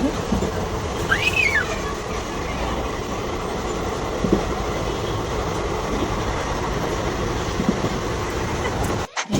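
Steady rumbling of a moving train with a continuous roar of wheels on rails, a brief squeal early on, and occasional clunks throughout.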